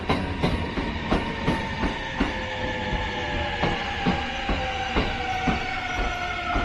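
A Shinkansen bullet train rolls through a station in Fukuoka, Japan, with a steady rumbling roar and regular clickety-clack wheel beats over the rail joints, loud and close.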